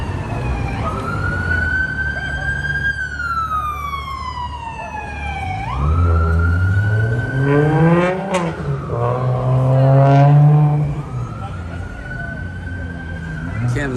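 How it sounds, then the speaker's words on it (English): Loud wailing sirens sweep up and down over busy Las Vegas street traffic at night, a second siren joining midway with rising and falling yelps. "It wouldn't be Vegas without some sirens."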